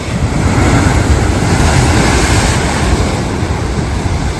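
Ocean surf roars continuously at the rocky southernmost point of Hawaii's Big Island, a loud, dense wash of crashing waves with gusty wind buffeting the microphone throughout, no voices heard.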